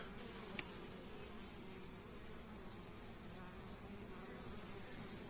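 Many honey bees buzzing at an open hive in a continuous, dense drone, close by and steady, with no talking.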